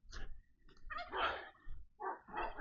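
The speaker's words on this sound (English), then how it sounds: "Some dogs are here." Dogs barking close by at a lakeside lodge in Homa Bay County, Kenya. A few short, rough barks come in quick bursts with brief gaps between them.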